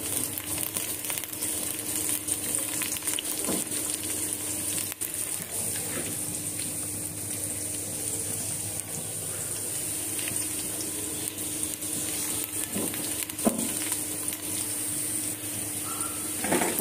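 Onions frying in oil for pulao in a home kitchen, a steady close sizzle and hiss running throughout with occasional faint clinks, no talk.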